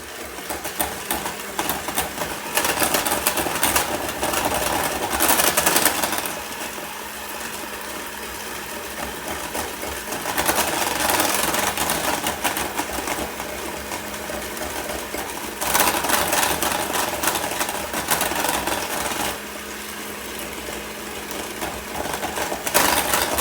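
An electric hand mixer whirs continuously while blending an egg and a teaspoon of vanilla into cake batter for pineapple upside-down cake, its buzzing motor rising and falling in pitch as it works, with no talking.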